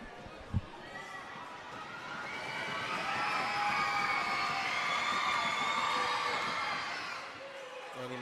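Basketball crowd in the stands at a Shepparton vs Sunbury game, a swelling roar of cheering and stomping that rises after a sharp thump, holds loud for several seconds, then fades.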